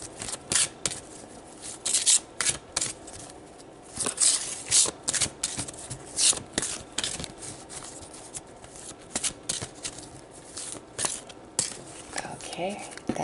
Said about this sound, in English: So let's pull a court card to see where your soul is at with this energy